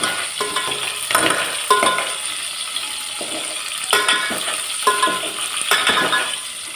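Ridge gourd curry is stirred in a pan, with a soft sizzle underneath and repeated close metallic scrapes and clinks of the spoon against the pan at an uneven rhythm.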